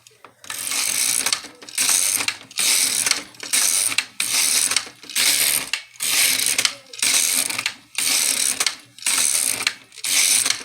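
Knitting machine carriage is run back and forth across plain stitches, giving loud, close mechanical clattering and ratcheting passes, about ten evenly spaced sweeps separated by short gaps.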